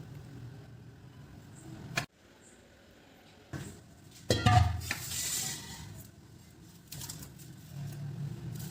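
Crunchy fried long sev snack, a Ratlami-style savoury, snaps and crackles up close in a few brittle bursts, with soft rustling and background noise between breaks.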